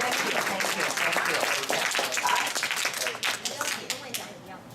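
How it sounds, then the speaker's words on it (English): An indoor audience gives a round of applause for a speaker named Michael: a dense burst of clapping that is loud at first, thins out toward the end and mixes with voices. "Let's give Michael again big Round of applause."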